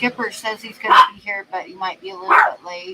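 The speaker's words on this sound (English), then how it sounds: "she decided she was going to bark." A dog barks in two short bursts, close by, over someone talking on a phone call.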